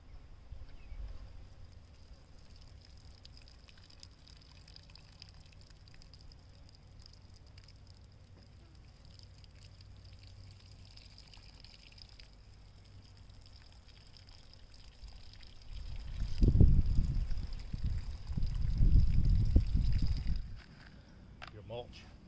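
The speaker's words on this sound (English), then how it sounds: "Now we'll go ahead and water those in really good." Quiet background for a long stretch, then water pours and splashes heavily onto soil around freshly planted vegetable seedlings for several seconds in two bursts, close by.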